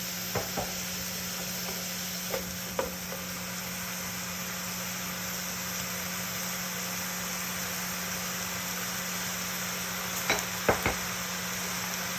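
Ground beef sizzling steadily in a pan for a Ragu Bolognese, a constant broadband fry hiss with a few light scrapes and clinks of stirring scattered through, no voices.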